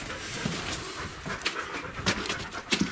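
Dog panting inside an abandoned mine, quick rhythmic breathy puffs, close by and moderately loud over a hissing roomy background.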